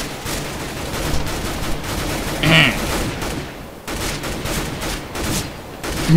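Automatic gunfire in Counter-Strike: Global Offensive, dense rattling bursts throughout with a brief gap near the middle, mixed with other game sounds.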